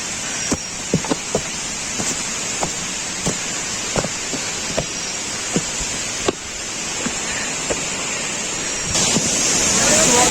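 Waterfall at Vibuthi Falls, reached by a trek, rushes in a steady, loud broadband roar throughout, with scattered sharp taps and knocks on top and a slight surge near the end.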